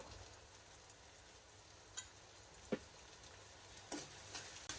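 Sliced onions fry with turmeric in a pan, giving a faint, steady crackling sizzle like light rain, with a few soft spatula taps scattered through. No one speaks.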